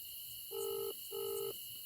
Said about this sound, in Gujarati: ફોન લગાવું આગેવાનને